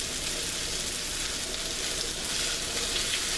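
Vegetables fry in oil in a pan, giving a steady, close crackling sizzle that holds evenly throughout with no voices.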